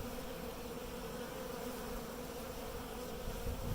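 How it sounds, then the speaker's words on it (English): A swarm of bees hums steadily as they fly over a hive screen, a dense close buzz that stays level and continuous with no voices. "You can see the bees going over the screen."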